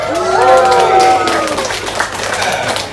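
Live audience at an Everglades alligator show clapping and cheering as a large alligator is carried out, a burst of voices and hands swelling then easing over a few seconds, with talk mixed in.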